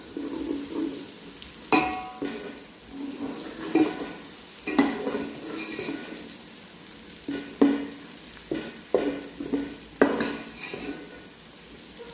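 Tomato masala for a marrow (kaddu) sabzi fries in a pan, giving a soft, steady sizzle broken by repeated sharp scrapes and clinks of a spoon stirring against the metal.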